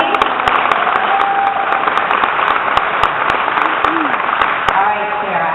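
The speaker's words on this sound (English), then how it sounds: "Give Theresa a big round of applause for that, please." Audience applause for a panelist named Theresa at a spring launch event in Omaha, continuous dense clapping filling the room throughout, with some voices mixed in underneath.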